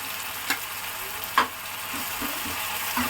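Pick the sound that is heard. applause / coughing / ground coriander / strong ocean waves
ground coriander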